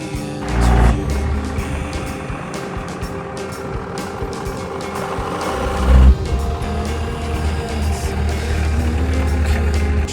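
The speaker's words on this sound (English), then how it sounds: "Driving through some sand," A truck camper drives through sand with a steady engine drone and the rushing rumble of the ride, plus a couple of heavier thumps from bumps along the way. No one speaks.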